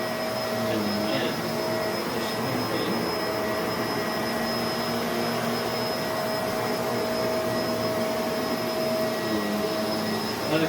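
A Bissell MultiClean Allergen Lift Off Pet carpet cleaner runs at full airflow and suction on worn carpet, a loud, constant motor drone with a steady whine that holds unbroken throughout.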